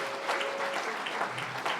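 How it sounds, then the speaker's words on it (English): An audience applauds Hall of Fame honorees and Living Legends at a 2024 awards event, steady dense clapping with no one speaking over it. "How about a big round of applause for our 2024 Living Legends and Hall of Famers?"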